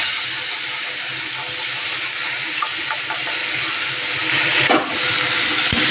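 Spice paste of ginger, garlic, green chili, tomato and onion sizzling in hot oil, a steady loud hiss that swells briefly near the end, close up with no talk.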